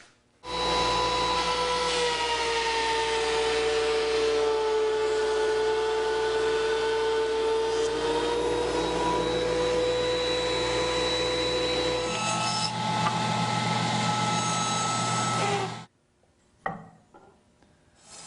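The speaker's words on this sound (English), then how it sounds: "now I'm ready to pass them through the planer to bring them to final dimension" A planer feeds wood pieces down to final dimension for rustic furniture, a loud steady machine whine and rushing roar that holds for about fifteen seconds, then cuts off abruptly, leaving brief clunks.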